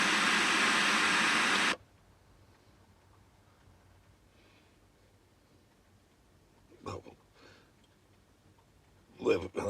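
Loud, hissing white-noise static pours from a salvaged radio with no working volume control for under two seconds, then cuts out, leaving faint clicks and short scratchy bursts.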